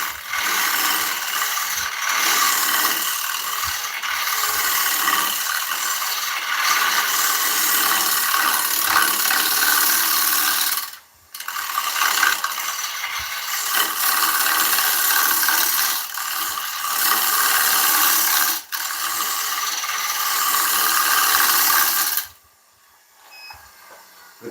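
A 3/8 ball gouge cutting an oak live-edge bowl on a woodturning lathe, a loud continuous scraping hiss in long passes broken by brief pauses as the tool lifts off.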